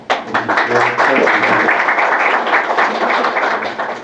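Audience applause at an awards ceremony for the 5th Korea Online Journalism Awards, a dense, steady wash of many hands clapping that fills the room at full volume for the whole stretch, with a voice briefly audible at the start.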